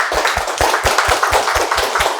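Classroom group claps hands in a quick, regular rhythmic pattern, about nine sharp, loud claps in two seconds with no talking.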